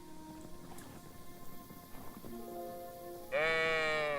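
Sheep bleat in Kingdom Come Deliverance 2, several short calls at moderate distance followed by one loud, close, wavering bleat at the end.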